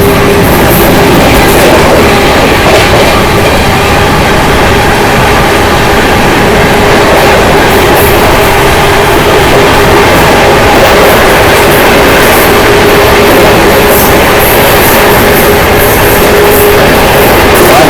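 Mumbai Rajdhani Express (12952) running at high speed, a loud continuous roar of wheels and wind with steady rail rumble and faint clatter throughout, heard from inside the train.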